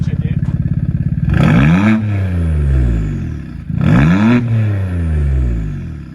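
A car engine with a new intake idles with a rapid throb, then revs hard twice at launch, each surge rising in pitch and dropping back, loud and close.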